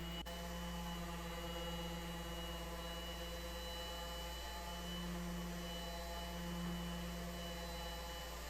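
Power sander working across a wood surface during a refinishing job, a steady continuous motor drone with constant loudness throughout, no speech.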